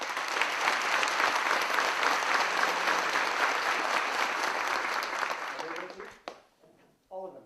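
An audience at a football seminar applauds to vote for juggling contestant number one, a dense loud burst of clapping that holds steady for about six seconds, then thins out into scattered claps.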